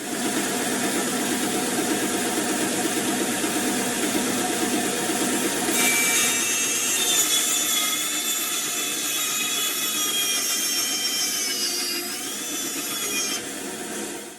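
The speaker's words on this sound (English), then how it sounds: "cutting that PTF hose off square is one of the most important things. I use a bandsaw" Bandsaw slicing through PTFE fuel hose in a drag-racing garage: a steady, loud, close motor whine with a faint rising squeal in the middle as the blade bites, dropping slightly near the end, no talking.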